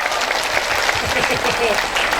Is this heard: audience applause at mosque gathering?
yes